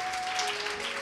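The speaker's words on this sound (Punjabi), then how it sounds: "ਸੋ ਅਸੀਂ ਜ਼ੋਰਦਾਰ ਤਾੜੀਆਂ ਦੇ ਨਾਲ ਇਹਨਾਂ ਦਾ ਵੀ ਸਵਾਗਤ ਕਰਦੇ ਹਾਂ।" A parish gathering welcomes its guests with a short, steady wash of applause from a crowd of many hands, heard at moderate volume alongside a faint constant hum.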